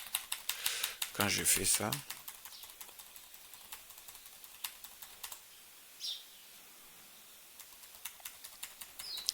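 Keys on a computer keyboard clatter in quick bursts as grades are typed in, soft and close, with a person speaking French over the typing at the start.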